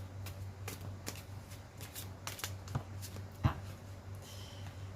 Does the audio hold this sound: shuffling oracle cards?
yes